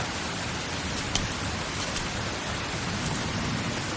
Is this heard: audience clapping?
no